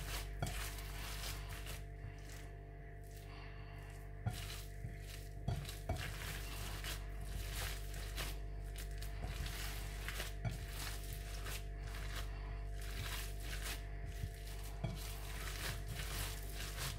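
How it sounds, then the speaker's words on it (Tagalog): Ground pork mixture for Filipino tortang giniling being stirred in a bowl, with repeated clinks and scrapes of a utensil against the dish over a steady low hum, no talking. "Haluin ninyong mabuti para yung pikado ninyo ay magsama-sama."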